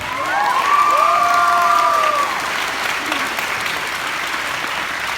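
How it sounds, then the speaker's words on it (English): Audience applause at a commencement ceremony, a dense sustained wash of clapping from a large crowd with a few cheers and whistles rising over it early on, staying steady for the whole stretch. "Give them a round of applause"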